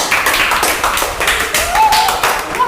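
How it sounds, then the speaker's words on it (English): Clapping from a school prize distribution audience for a student's English speech, a short run of irregular claps close by with voices underneath. "Well tried, clap everybody."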